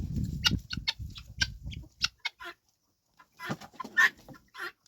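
Guinea fowl and chickens call close by, with a run of rapid clucks and squawks, a brief pause, then another burst of calls.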